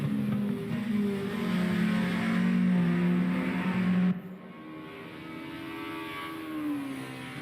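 BMW four-cylinder race car engines at racing speed on the Nordschleife, a loud sustained intake drone that drops away abruptly, followed by a quieter engine note that swells again.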